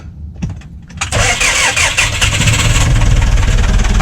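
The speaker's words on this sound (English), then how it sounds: "Now I'm going to give it a start." A sailboat's inboard engine cranks briefly, then catches and settles into a steady, loud running chug with a bright mechanical clatter, close by and with no talking.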